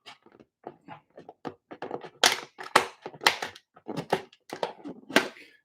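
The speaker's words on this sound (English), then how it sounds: "Now, I'm just going to use the craft knife to start the hole." A craft knife cutting and punching a hole in craft material, giving a series of short, close crunching taps and scrapes in irregular bursts, louder in the middle, with no talking.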